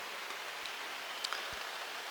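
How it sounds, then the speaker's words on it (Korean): Soft, steady rain falling, a faint continuous patter with a couple of slightly louder drops, no talking. "이 빗소리를 혼자 듣기엔 좀 아깝더라고요"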